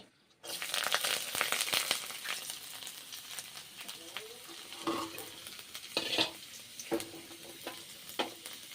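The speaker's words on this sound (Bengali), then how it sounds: "রসুন ভেজে দিচ্ছি" Garlic fries with chicken pieces in a hot pan, a close, steady sizzle broken by scraping stirs and a few sharper clinks of the spatula.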